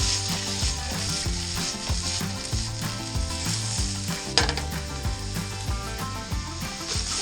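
Chicken pieces fry in a pan for nachos, a steady close sizzle and crackle with occasional clinks of a utensil, continuous and without voices.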